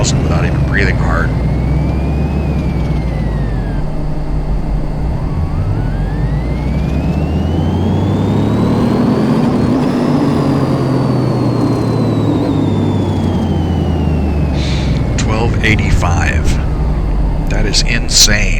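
A pickup truck engine on a dyno in Car Mechanic Simulator 2018 climbs steadily in pitch to a high, strained rev, then winds back down. The droning tone is loud and continuous, with whining overtones sweeping up and down.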